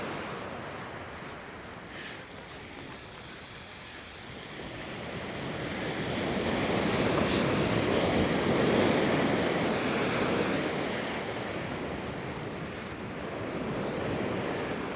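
Ocean surf breaks on a beach at night, a broad continuous wash that swells and recedes, mixed with wind buffeting the microphone, loud and close with no voices.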